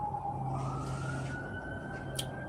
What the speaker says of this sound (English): you hear the sirens, right?